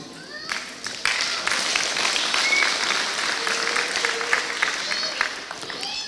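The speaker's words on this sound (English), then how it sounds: "clap for yourself" A congregation claps at a Christian centre launch service in London, a broad wash of applause that swells after a second and holds steady, with a voice faintly audible beneath it.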